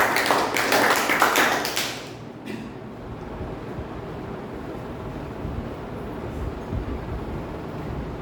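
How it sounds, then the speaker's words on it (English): Applause from the audience at a Toastmasters meeting fills the room for about two seconds, then fades into a quiet indoor hush. "Huge round of applause for Toastmasters."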